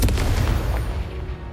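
A Confringo blasting spell explodes in the Hogwarts Legacy video game, a loud booming blast at the start that rumbles and fades away over a second or so.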